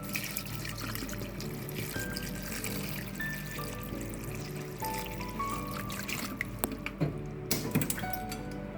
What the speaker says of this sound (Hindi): 1 लीटर हम पानी डालेंगे,